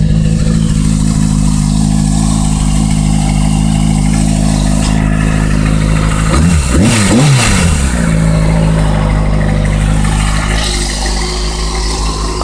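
A 2007 Kawasaki ZX-6R sport motorcycle with a loud aftermarket exhaust drones steadily, then briefly revs up and down in a sharp rise mid-way before settling back to a rumbling idle.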